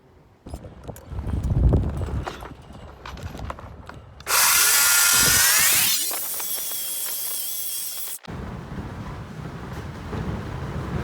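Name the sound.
cutting 1 inch wood strips with a power saw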